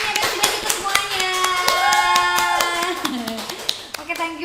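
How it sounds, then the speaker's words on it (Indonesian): Applause from a podcast audience, a short burst of scattered hand claps that patter irregularly beneath and around a speaking voice with a musical tone. "terima kasih Mas Wawan, boleh dong tepuk tangannya"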